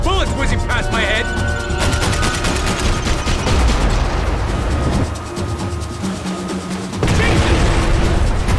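Heavy gunfire in the video game Max Payne 3, with dense bursts of shots and booming impacts running nearly the whole time, loud and close, mixed with game sound and brief voices.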